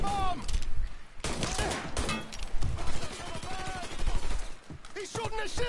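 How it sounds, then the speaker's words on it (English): Video game gunfire in bursts of loud, fast shots, broken by short pauses and mixed with shouting voices from several players. "He's shooting the shit out of me!"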